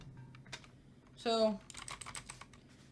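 Someone types on a clicky Red Dragon mechanical keyboard, a close, quick scatter of sharp key clicks after a brief spoken word.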